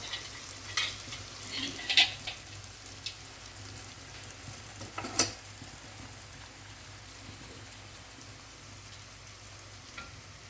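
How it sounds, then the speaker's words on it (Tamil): Rempeyek crackers made with anchovies and peanuts fry in oil, giving a soft, steady sizzle with a few light pops and crackles and no voices. "கொஞ்ச நேரம் பொரிஞ்சிட்டோன்னே இதை திருப்பி விட்டுடலாம்."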